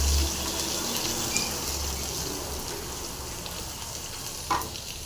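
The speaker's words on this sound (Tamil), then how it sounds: "அடுத்தது பூண்டு போட்டுடலாம். பூண்டு நல்லா ஃப்ரை ஆகட்டும்." Garlic fries in hot oil after mustard seeds, giving a steady close sizzle with light crackle and an occasional stir or clink, no voices over it.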